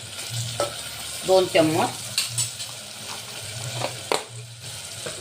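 Ginger garlic paste frying with onion in a pan, with steady sizzling, a few stirs and scrapes of a spoon, and a brief voice in between.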